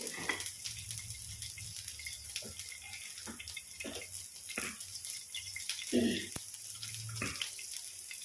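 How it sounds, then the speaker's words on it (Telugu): Oil poured into a hot bandi (kadai) begins to sizzle softly, a steady faint frying hiss with occasional crackles and clinks in a home kitchen. "మళ్ళీ ఇందులో కొంచెం ఆయిల్ వేస్తున్నానండి"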